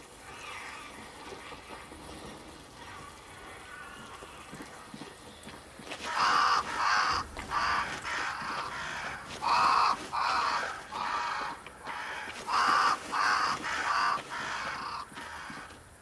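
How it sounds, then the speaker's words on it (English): Crows in Banishers: Ghosts of New Eden caw repeatedly in a game scene, a run of harsh rasping calls over steady ambient background noise, starting faint and growing louder partway through. "crows."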